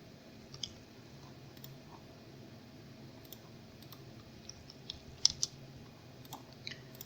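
Sparse, faint computer mouse clicks scattered over a quiet background while a Gmail account is being set up, with a few sharper clicks standing out, no talking.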